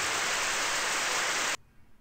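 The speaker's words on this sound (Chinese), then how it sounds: "这雨声也太大声了吧" Loud, hissing downpour in a horror RPG video game, a dense wash of rain that fills the first second and a half. It then cuts off abruptly to near silence.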